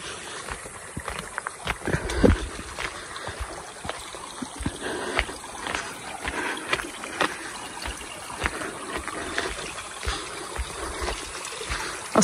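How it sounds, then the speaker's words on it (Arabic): Flowing water at Lake Filaw, among farms and cherry orchards, makes a steady broadband rush with small splashing trickles throughout, fairly close, with no clear talk. "أصوات هدوء صوت المي والهدوء شقد حلو"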